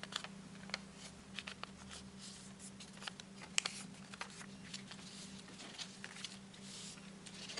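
Paper being folded and creased by hand into an origami coffee bean, a faint, steady run of soft crinkles and small taps, with a few sharper crease snaps scattered throughout, close and quiet with no talking.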